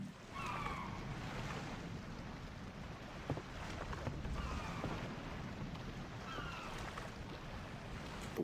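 Rolling ocean waves and wind wash steadily through a scene from Final Fantasy X, a continuous broad surf with faint tonal game sounds drifting above it.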